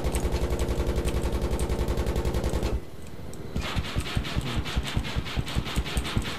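Rapid automatic gunfire in Battlefield 3 during a helicopter run on Bandar, loud and close, a steady rattling burst that cuts out briefly then resumes as a separate stream of sharp shots.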